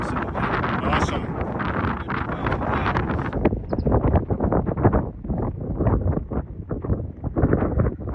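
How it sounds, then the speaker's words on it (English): Strong gusting wind of about 32 miles an hour batters the microphone off-road beside a Rivian R1T work truck, a loud continuous roar with buffeting surges and a voice talking partway through. "I would say it is windy. Last clocked, it was 32 miles an hour."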